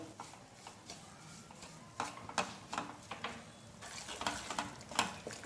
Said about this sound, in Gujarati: મીડિયમ ગેસ ઉપર કન્ટિન્યુ ચલાવતા લોટને શેકી લેવાનો છે